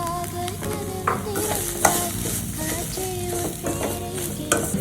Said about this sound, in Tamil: 2 கப்பு ரவையை போட்டு நல்லா வறுத்து விட்டுருங்க.